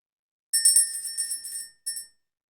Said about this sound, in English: ring the bell to clear the energy